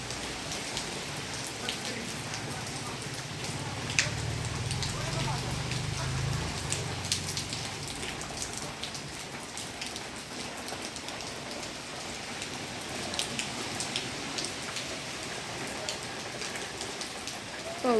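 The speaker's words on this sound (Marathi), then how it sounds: "कडक ऊन पडते आणि लगेच 10 मिनटात पाऊस पण येतोय" Heavy rain pours down over a farm field moments after harsh sunshine, with the wind picking up, producing a dense, steady hiss of drops that stays loud throughout, with a low rumble in the first half.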